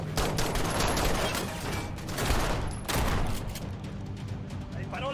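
Shotgun fire from a scene in the TV show Reacher comes as dense, repeated blasts and booms, nearly continuous and loud throughout, with faint voices underneath.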